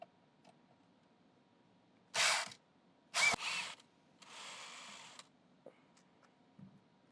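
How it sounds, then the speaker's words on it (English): Drill removing Phillips screws from the pad holder of a Tomcat 270 floor scrubber, three short whirring bursts of the motor with brief clicks between, in a quiet space. "Get yourself a Phillips head drill bit or a Phillips head screwdriver, and there are 3 Phillips screws that need to come out."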